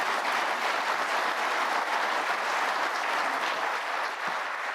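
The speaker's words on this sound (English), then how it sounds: "please offer them a round of applause" Steady, dense applause from a large crowd, continuous and loud throughout with no pauses.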